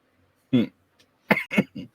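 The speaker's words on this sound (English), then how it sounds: "That sounds like a smoker's cough." A rough, throaty smoker's cough in a few short bursts: one isolated hack, then a quick series of three close together, loud and near.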